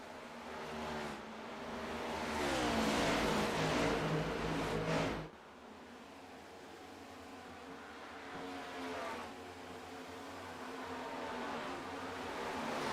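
Race cars in a NASCAR-style racing video game pass on an oval track, a loud engine roar swelling and then cutting off sharply, followed by a fainter, steadier drone from more distant cars.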